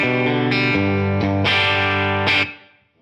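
A clean electric guitar tone through a Line 6 Helix modelling a Mesa Boogie Mark IV amp: several strummed chords ring out loudly and sustain, with the final chord fading out.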